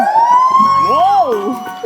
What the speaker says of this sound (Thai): ใครเปิดไซเรนครับ